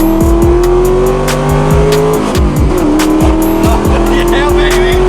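Loud Ford Mustang muscle car accelerating hard on a scenic cruise, repeated sharp rising engine revs and gear changes with tire noise, close and dominant over faint voices.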